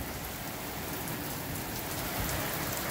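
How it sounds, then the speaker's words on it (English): Heavy rain pours down in Norridge, Illinois, in a dense, constant hiss, loud and unbroken throughout with no voices. "it's pouring bad, big time"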